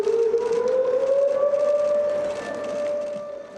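A civil defense siren sounding over a Seoul plaza at a memorial for the Halloween crowd-crush disaster, one loud sustained wailing tone that slowly rises and then fades slightly, with no voices.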